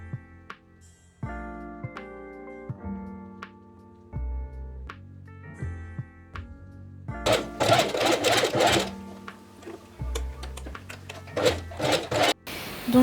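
A sewing machine stitches elastic onto a crop top in short bursts of rapid needle rattling separated by pauses, then runs in longer, louder runs near the end, close and clear with no speech.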